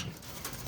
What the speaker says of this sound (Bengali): সম্ভবত সিরাজি কবুতর হবে এটা